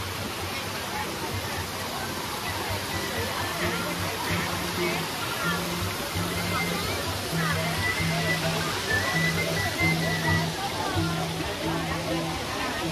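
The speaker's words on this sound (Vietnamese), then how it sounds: "Đó, suối chảy róc rách." A babbling stream flows steadily at a lake-and-stream tourist area near Khánh Vĩnh, Nha Trang, making a continuous rushing, splashing wash. A low hum pulses under the water.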